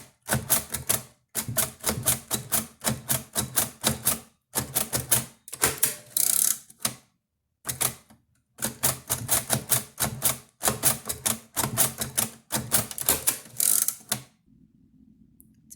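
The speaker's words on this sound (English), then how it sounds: "I'm going to Braille the message on the inside of the card using my Braille writer," A Braille writer types a message onto the inside of a card, with rapid runs of crisp mechanical clacks broken by short pauses and a carriage ratchet, loud and close with no voices.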